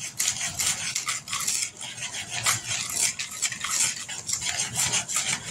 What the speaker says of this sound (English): so we can whisk it a little bit